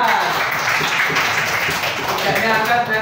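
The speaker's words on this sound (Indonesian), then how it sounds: "Tepuk tangan" Fifth-grade schoolchildren clap hands together in a classroom, a dense, continuous patter of applause heard up close.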